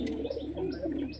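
A male pigeon coos nearby, giving soft low throaty rolling murmurs that carry on for a short stretch over a faint steady background hum.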